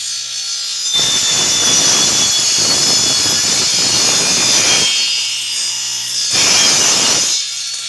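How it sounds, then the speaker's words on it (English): A radial arm saw cuts wood boards in two loud, sustained passes, its steady motor whine deepening into a rough, gritty rasp through each cut with a brief easing between them. "now I'm ready to go ahead and make the cuts on the radial arm saw"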